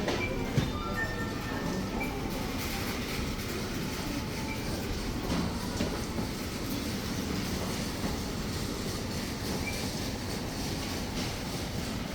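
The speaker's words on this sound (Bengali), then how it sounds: "এটি হচ্ছে ট্রাম ট্রেন" A tram rumbles past steadily in Riga, Latvia, with a constant low roar and faint metallic squeals, sustained and fairly near without talk.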